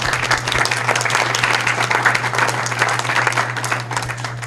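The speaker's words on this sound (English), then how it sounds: "I want an applause for that." Workshop attendees at an ayahuasca ethnobotany conference break into sustained, loud applause. Dense, even clapping fills the room over a steady low hum.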